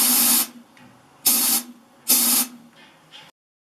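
An air gun blowing through a hole drilled in the bottom of a bowl for a vortex tealight: three loud, sharp hissing blasts about a second apart, then a fainter short puff before silence.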